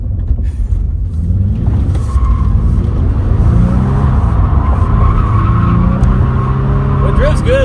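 A drift car slides sideways with tire squeal and skidding over a mix of snow and asphalt, engine droning loud and steady throughout, with a voice talking over it.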